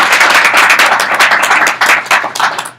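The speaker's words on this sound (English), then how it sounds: "And we should give Nancy a round of applause for the terrific job she's doing." Loud, close round of audience clapping at a panel discussion on immigration reform, brisk and dense throughout with no talk over it.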